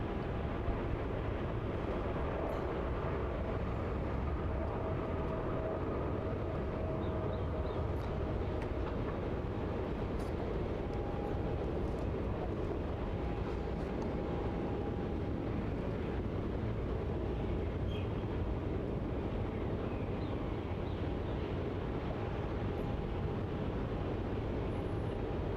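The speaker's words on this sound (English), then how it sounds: "There it is there, just barreling down runway 34." Jet airliner accelerating down runway 34 at Melbourne Airport for takeoff, a continuous heavy low engine roar that stays broad and steady throughout, heard from a distance.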